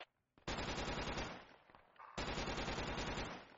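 Video game gunfire from a Humvee-mounted gun comes as two loud, rapid machine-gun bursts of evenly spaced shots, the second after a brief pause.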